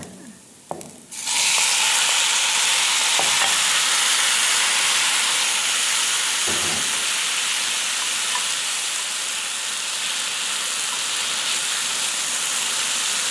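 Tomatoes dropping into fried onions and aubergines in a terracotta dish, setting off a loud, sustained sizzling hiss after a few brief clatters, close and steady.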